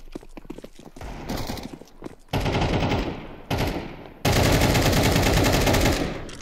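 Pistol gunfire in a competitive video game match: fast, loud volleys of shots in a rapid stuttering rhythm that grow denser and louder toward the end.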